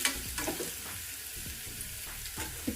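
Vegetables fry with turmeric in a pan for a vegetable dum biryani, sizzling steadily up close while a spoon scrapes and stirs them in several uneven strokes.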